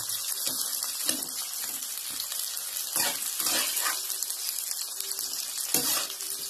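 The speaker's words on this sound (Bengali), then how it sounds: "লাল করে একটু পেঁয়াজটাকে ভেজে নিলাম" Sliced onions frying in a pan until reddish for chicken kosha, a soft continuous sizzle with occasional louder crackles and light clinks, close and moderately quiet, with no voices.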